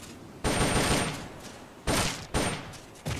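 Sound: M16 assault rifle rapid fire in video game Metal Gear Solid Peace Walker

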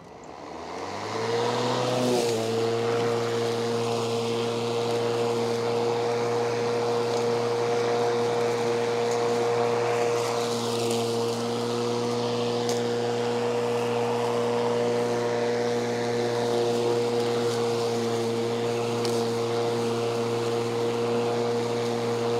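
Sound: Ryobi battery-powered lawn mower running

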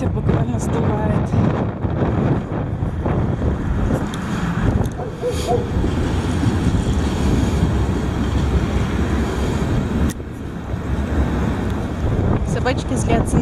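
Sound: strong wind blowing into the microphone

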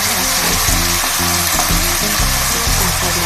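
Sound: stir-frying water spinach (morning glory) in a pan

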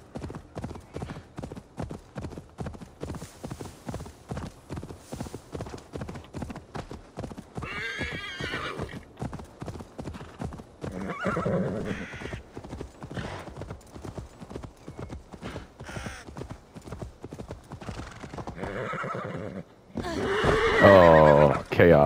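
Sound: horse galloping and neighing in video game Assassin's Creed Valhalla

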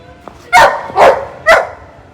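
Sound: dog crying loudly

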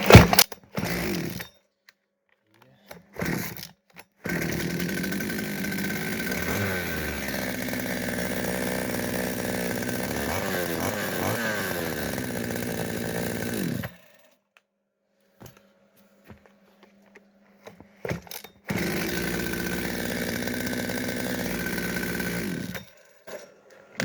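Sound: Kitprom petrol chainsaw running

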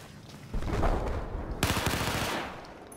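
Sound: AK rifle gunfire in video game Battlefield 4

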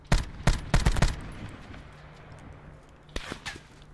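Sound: gunfire in Call of Duty: Black Ops 4 video game

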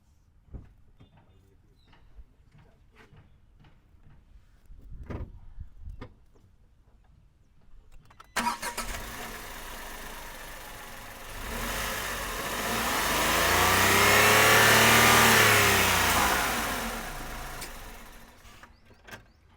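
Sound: Tata Tigo sedan engine starting and revving

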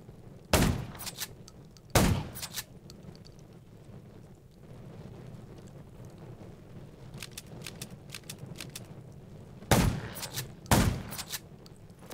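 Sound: gunfire in a video game

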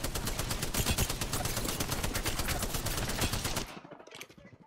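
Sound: gunfire in video game Apex Legends

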